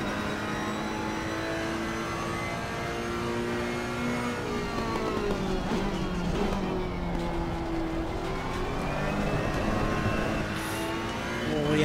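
A Ferrari race car in Assetto Corsa Competizione at Watkins Glen, its engine a loud sustained howl that climbs and drops through gear shifts, with other cars faintly around it.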